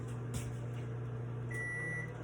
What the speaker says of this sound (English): I will get the fajitas out of the microwave